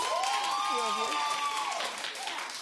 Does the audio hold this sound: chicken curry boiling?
no